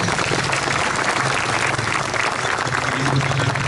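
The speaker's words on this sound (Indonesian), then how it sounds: "Mungkin bisa kita berikan tepuk tangan" An audience at an outdoor school assembly for Mother's Day gives dense, sustained applause, a loud continuous wash of many hands clapping together.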